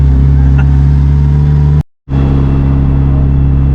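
An all-wheel-drive Honda Si engine revs hard through a third gear pull, a loud, droning buzz that cuts out completely for a moment mid-pull before roaring straight back.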